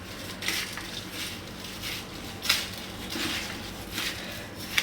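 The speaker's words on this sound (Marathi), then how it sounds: "तर आता आपण छानच मिक्स करून घेऊया सर्व चिवडा." Fried poha chivda stirred in a pan, with a steady run of soft, crisp scraping and rustling strokes of spoon against metal, a few sharper clinks standing out, close and fairly quiet, with no voices.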